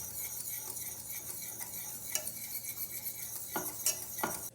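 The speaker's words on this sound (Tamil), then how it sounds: "இதை நல்லா கை விடாமல் கலந்துருங்க," A spoon stirs melted chocolate into milk in a metal pan for hot chocolate, making soft, faint scraping and clinking against the pan, with a few sharper taps near the end.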